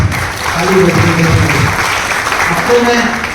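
Audience clapping at a stress-free living session at a postal training centre in Saharanpur, a loud burst of applause with a voice or crowd murmur mixed in beneath it.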